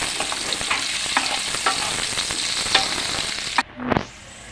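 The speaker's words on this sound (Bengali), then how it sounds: "অল্প একটু নুন একটু হলুদ গুঁড়ো দিয়ে ভেজে নেব প্রথমে হালকা করে আলুগুলোকে" Potato pieces frying in oil with salt and turmeric, a loud close sizzle broken by repeated stirring scrapes, ending in a brief clatter.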